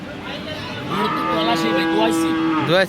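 A cow with a calf at a Munshiganj cattle market lets out a long, loud, close moo that swells and holds, rising at the end, over faint crowd murmur.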